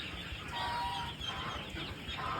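A crowd of young meat ducklings, about six days old, peeping and calling continuously in a dense overlapping chatter with no talk.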